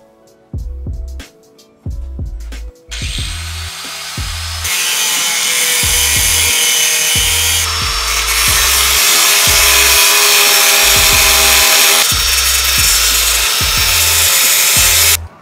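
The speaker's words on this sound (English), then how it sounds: "after a lot, and I mean a lot of cutting, it's finally off" A power tool grinds and cuts through the rusty steel fenders of a car, starting with short bursts over a repeating low thump and then running as a long, loud, continuous cut.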